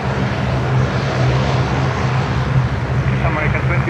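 A Scandinavian Airlines Airbus A350-900 arriving from Copenhagen comes in to land with a loud, steady jet roar, as a voice talks over it.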